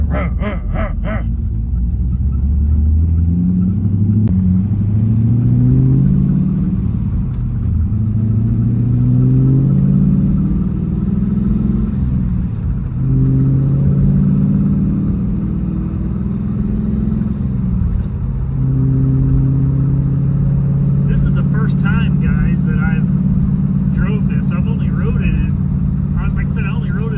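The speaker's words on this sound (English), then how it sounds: "With this cam, with the lope these cams have, you really, once you get going, you just got to go" A 1999 Chevrolet Camaro SS V8 with a lopey cam rumbles loudly and accelerates through rising engine sweeps and gear changes, close inside the car, with someone talking over it.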